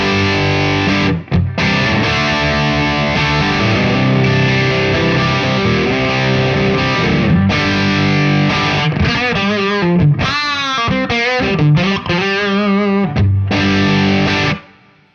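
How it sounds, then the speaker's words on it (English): Electric guitar run through a Wampler LaGrange distortion pedal at medium gain, loud and sustained with thick chords, a few brief breaks, and a busier stretch of single-note playing near the end before it cuts off. "Love this particular type of pedal just for the type of distortion it's doing."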